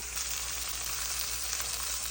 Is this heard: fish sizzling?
yes